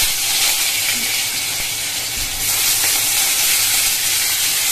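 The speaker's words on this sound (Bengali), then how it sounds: "তেলটা গরম হয়ে গেছে, আর আমি এখন দিয়ে দেবো হচ্ছে সবজিগুলো" Vegetables frying in hot mustard oil in a wok give a steady, close, loud sizzle with brief stirring scrapes throughout and no talking.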